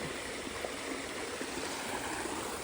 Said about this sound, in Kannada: ಹಿಂಗೆ ನೀರು ಹರಿತಾ ಇರುತ್ತೆ